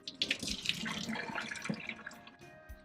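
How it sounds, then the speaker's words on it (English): Water sloshes and splashes out of a pot in a kitchen while ozoni, a Japanese New Year soup, is being made: a steady, fairly close pour with small spatters, lasting a few seconds, no voices. "You just need to dump the water out."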